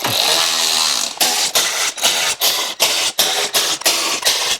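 A socket ratchet tightens nylock nuts onto bolts while Zone RV underbody protection is fitted, giving a loud run of about ten rapid clicking bursts in a steady rhythm, close up and with no talk.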